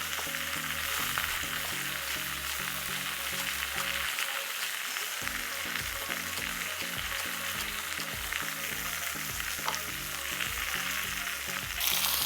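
Fish fries until golden in a pan as two spatulas turn it. A steady, dense sizzle runs throughout with faint scraping, under continuous background music.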